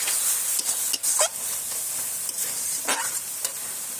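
Cumin paste sizzles steadily in a hot pan as a splash of water is added, with a continuous close frying hiss, a few brief sharper bursts, and scraping stirs.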